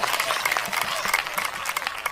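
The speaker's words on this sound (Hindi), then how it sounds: "एक बार तालियां बजाएं जोरदार भाई साहब के लिए।" Audience applause at a comedy show, a short burst of brisk clapping from the crowd, fairly close and continuous with faint voices mixed in.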